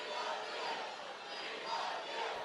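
A crowd of political supporters shouts loudly together in a sustained, roaring cheer that swells and holds without a break.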